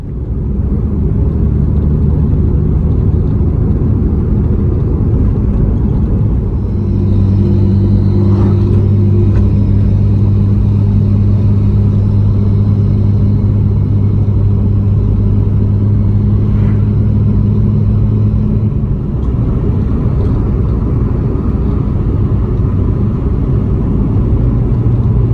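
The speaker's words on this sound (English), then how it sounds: "I'll go for another test drive, see if the noise is still there or not." Mazda RX7 on a test drive, a steady close in-cabin engine and road rumble running throughout with sustained drone tones that shift midway, no talking.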